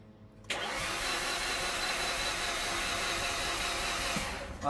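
A 2015 Mitsubishi 4N14 diesel engine, just back from a top overhaul, fires up after a brief quiet moment and then runs at a loud, steady roar close by, with no talking.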